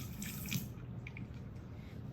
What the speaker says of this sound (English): so I'm going to go ahead and empty some of that out.